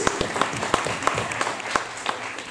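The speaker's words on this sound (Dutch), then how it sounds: "give Jesus a round of applause" A church congregation applauds during a sermon, with steady, moderately loud clapping and distinct individual claps standing out throughout.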